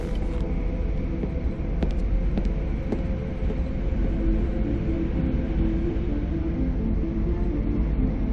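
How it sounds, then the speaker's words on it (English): Deus Ex Mankind Divided train pulling into a station, a steady low mechanical rumble with faint clanks, held at an even loudness with no voices over it. "just getting off the train now"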